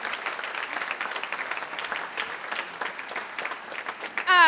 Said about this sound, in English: If you could stand so we can clap for you.